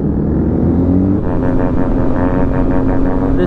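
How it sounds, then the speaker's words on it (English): Kawasaki Ninja 250 motorcycle revving on a city street, a buzzing high-pitched engine note that climbs and wavers over steady road rumble, heard at moderate distance. "This dude's tuning a 250, like Ninja 250."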